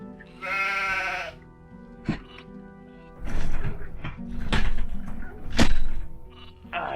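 A sheep bleats loudly in a wavering tremolo near the start, followed by thuds, clicks and shuffling game sounds with short bursts of noise, in the video game Gothic 2: Night of the Raven.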